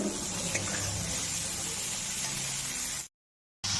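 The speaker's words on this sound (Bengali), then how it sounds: "এখন আমি জল দিয়ে দিচ্ছি আধা কাপ জল দিয়েছি" Half a cup of water poured into a pan of frying peas and spices for a vegetarian Bengali dish, a steady broadband pour lasting about three seconds before cutting off abruptly.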